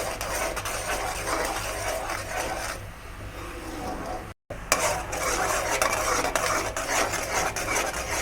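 A peanut candy mixture is stirred nonstop in a heavy-bottomed silver pan, giving continuous close scraping and sizzling with one very short break.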